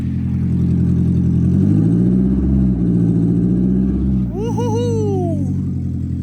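A car engine with its catalytic converter cut out drones steadily up close, its pitch rising and falling with revs, then a high, wavering whistle cuts in over the rumble.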